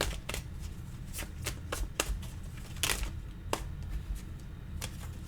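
Tarot cards riffled and shuffled by hand at close range, a run of quick crisp flutters and snaps in an uneven rhythm, with soft handling noise between.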